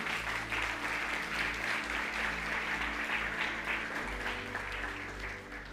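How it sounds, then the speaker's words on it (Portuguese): A church congregation applauds during a Portuguese-language sermon, with steady clapping that is moderately loud throughout and a low hum from the hall underneath. The applause eases off slightly near the end. "Pode aplaudir ao Senhor."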